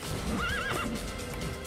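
A horse in the Assassin's Creed video game gives a clear rising and falling neigh over soft hoof clops, with game ambience behind it.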